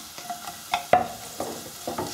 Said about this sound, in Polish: i też ją chwileczkę podsmażę